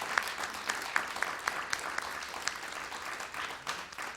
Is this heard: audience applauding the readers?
yes